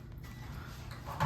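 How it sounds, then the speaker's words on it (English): A Bell + Howell 15-inch socket ceiling fan runs at close range with a steady low hum and faint mechanical ticking, and no one speaks. "It's a socket fan here."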